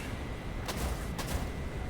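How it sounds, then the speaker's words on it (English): Aircraft guns on an AV-8A fire in two quick, faint bursts in War Thunder, heard under steady engine noise. "I shoot this guy with my guns."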